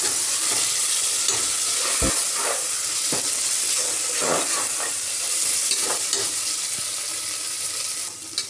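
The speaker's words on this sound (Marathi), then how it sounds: "आता आपण याच्यामध्ये घालणार आहे टोमॅटो। टोमॅटो चांगला मऊ होईपर्यंत भाजून घ्यायचा।" Tomatoes frying in masala paste until soft for masala rice made with Indrayani rice, a loud continuous sizzle and hiss with occasional stirring scrapes, close up and without any talking.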